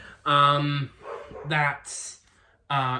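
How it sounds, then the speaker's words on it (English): A dog barks several times in the background, in loud repeated bursts with short pauses between them, while someone talks over it. "sorry about my dog, by the way, barking in the background"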